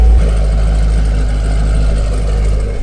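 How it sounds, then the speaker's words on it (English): A Camaro 2SS 1LE, already warm and fitted with American Racing headers, idles with a deep, loud, steady low rumble close by, holding even throughout. "Those American racing headers sound phenomenal."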